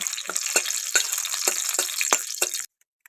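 Three dried red chillies sizzle in hot mustard oil in a kadai, a continuous hiss with short pops and crackles sprinkled through it, and then it cuts off abruptly near the end.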